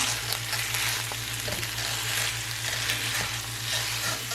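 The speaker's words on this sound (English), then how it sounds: "what we're going to do is we're just going to mix this in really good together. Kind of fold this in." Bison burger patty melt ingredients, with cheese being folded in, sizzle and fry steadily in a pan, a continuous close hiss with faint stirring scrapes and a low steady hum beneath.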